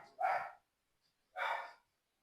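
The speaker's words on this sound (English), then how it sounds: "I gotta go shut my dog up." A dog barks twice, two loud separate barks about a second apart, nearby and clear, with silence between them and no talking.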